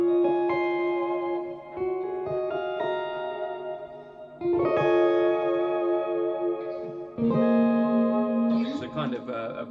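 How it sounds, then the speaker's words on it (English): Electric guitar played through the polyphonic pitch-shifting effect of a Line 6 Helix with reverb, sustained notes and chords with shimmering octave layers and a gliding pitch bend near the end. "So that's, I guess, the first poly sounds coming out of a Helix."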